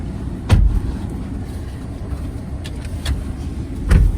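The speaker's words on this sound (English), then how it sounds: "Let's take you on a short test drive, show you how the vehicle drives." A 2017 Ford Explorer Police Interceptor drives on a short test drive, its engine and road noise a steady low rumble with a few sharp bumps or knocks near the start and end.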